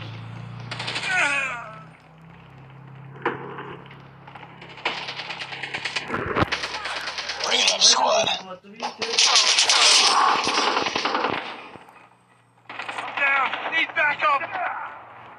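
Gunfire in Call of Duty with an AK-47 among the weapons, bursts of rapid automatic shots and single cracks in uneven clusters, with someone talking in between and over the shooting.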